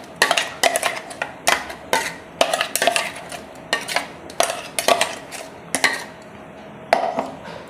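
Ground moong dal batter scraped from a grinder jar into a pot, with repeated sharp metallic clinks and scrapes of a spoon against metal in an uneven rhythm, close and fairly loud, without speech.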